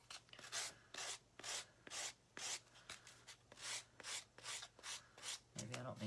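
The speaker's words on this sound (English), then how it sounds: "Maybe I don't need to be so hard on it when I'm sanding it." Rhythmic back-and-forth sanding scrapes across a plastic wrap transfer on a wooden surface, steady strokes repeating about twice a second, close and fairly quiet, a brief low hum near the end, no voices.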